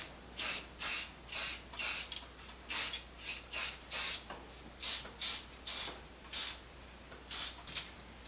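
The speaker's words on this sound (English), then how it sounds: "spray about half of it with purple and half of it with blue" Colour spray, purple and blue, is sprayed onto popcorn spread on a tray in a rapid series of short, sharp hissing bursts, close and fairly loud.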